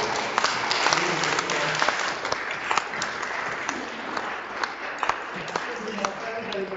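A church congregation applauds a couple's diamond wedding anniversary during a morning service, a steady, roomy wash of many hands clapping that carries through the whole stretch.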